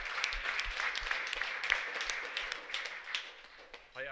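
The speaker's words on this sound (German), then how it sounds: "Ich habe unseren Gott einen Applaus gegeben." Applause in a church service, a moderate scattered round of clapping from the congregation, fairly even for a few seconds before tapering off.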